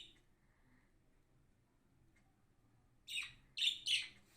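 Several sharp, bright chirps from an English-type song bird, a canary, break a near-silent room after a few seconds, coming as three quick close bursts in a row with no voices around them.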